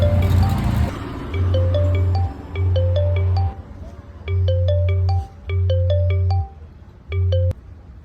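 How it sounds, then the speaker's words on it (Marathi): A phone ringtone plays a repeated melodic tone pattern in five bursts, each with a steady low hum underneath, loud and close in an indoor setting, with faint background noise at the start. "दादा, फोन वाटतो, फोन उचला."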